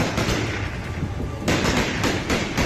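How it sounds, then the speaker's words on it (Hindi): Dense, crackling gunfire from Taliban fighters in Afghanistan rattles across a street lined with vehicles, with sharp overlapping bursts swelling louder partway through against constant noisy background clatter. "सड़क पर गाड़ियों की कतार लगी है और आतंकी अंधाधुंध गोलियां बरसा रहे हैं।"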